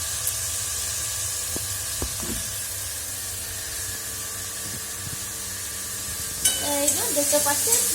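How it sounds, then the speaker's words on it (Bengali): Food frying in a hot pan, giving a steady, fairly loud sizzle with a few sharp clicks of stirring and a burst of louder spitting and clatter near the end. "এই তো বেশ ভাজা ভাজা হচ্ছে"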